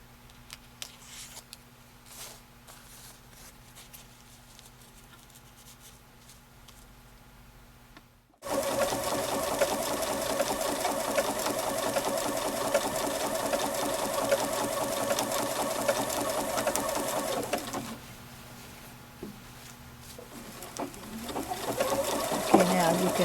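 A sewing machine stitches stabilizer for machine smocking in a fast, steady run that starts abruptly after a quiet stretch. Its loud whir holds for about ten seconds, then slows and resumes, with faint talk around it.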